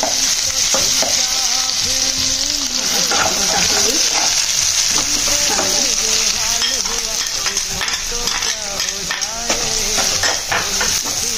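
Onions fry with ginger and garlic for dry chicken, a loud close sizzle mixed with constant spatula scraping and stirring, while a voice speaks faintly underneath.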